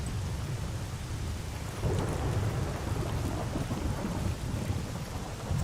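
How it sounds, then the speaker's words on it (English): Heavy rain hisses steadily in the video game Stalker Anomaly, with deep rolling thunder rumbling underneath and swelling partway through, no voices. "We don't have a lot of fog, it's just heavy rain."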